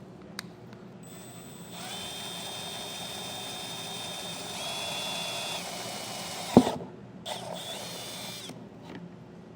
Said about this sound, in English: And then we'll step that up to a 3/8 drill bit.